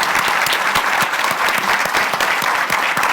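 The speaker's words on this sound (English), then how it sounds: "Please give them a round of applause." An audience applauds panelists at an HIV/AIDS awareness colloquium, a dense, steady clapping from many hands throughout, close and loud.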